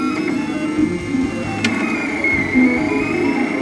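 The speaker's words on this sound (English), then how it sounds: "When we recorded the 3D printer, it was really cool. It was a really sci-fi kind of sound." A 3D printer running steadily, giving off a continuous mechanical whir with tonal motor whines and small clicks, close and moderately loud with no voices.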